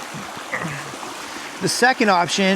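A backcountry stream flows in a steady broadband rush, close and moderately loud, and a voice briefly breaks in over the water near the end.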